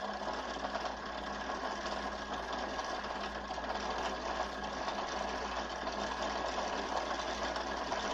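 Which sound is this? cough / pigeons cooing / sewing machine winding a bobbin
sewing machine winding a bobbin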